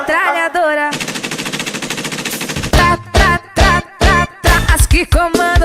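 A World War I machine gun fires one long, rapid rattling burst, then a series of short, loud bursts with brief gaps between them. A voice is heard briefly at the start.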